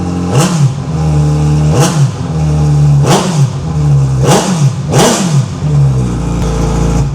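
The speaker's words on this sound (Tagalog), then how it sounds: "Soundcheck natin yung cut delete stock exhaust ng GSX S 1000." Suzuki GSX-S 1000 engine with a cut stock exhaust, revved hard five times in quick succession, each blip rising to a loud roar and dropping back to a deep, throbbing idle, close by with no talk.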